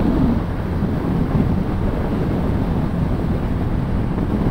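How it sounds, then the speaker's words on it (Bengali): Strong wind blasting a microphone on a bridge during a motorbike ride, a loud continuous low roar and rumble throughout with no break. "বাতাসটা অনেক বেশি"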